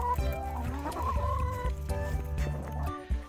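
Hens cluck in a winter coop, several birds making soft, overlapping rising and falling clucks and murmurs at close range, steady and fairly loud with no talking.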